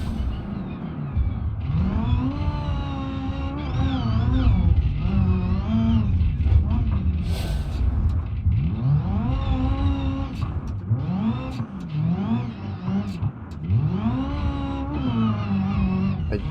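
Simulated car engine in a BeamNG.drive time trial on the Small Island 3 map, revving up and down through repeated gear changes, loud and continuous, with rising and falling pitch sweeps.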